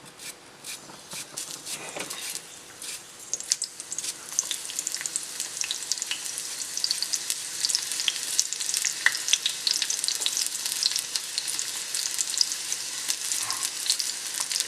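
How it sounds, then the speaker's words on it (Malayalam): Sliced small shallots frying in hot oil for a coconut fish curry, a steady bright sizzle that builds and holds, with occasional crackles and pops close up and no talking. "എണ്ണയൊന്ന് ചൂടായി കഴിയുമ്പോഴേക്കും ഉള്ളി ചേർത്ത് കൊടുക്കുക. ഇതിലേക്ക് ചെറിയ ഉള്ളി അരിഞ്ഞു കൊടുക്കുക."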